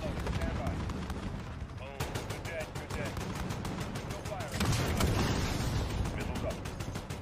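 Gunfire in Call of Duty: Modern Warfare, with rapid automatic bursts and repeated sharp shots throughout, heard under a player's talk.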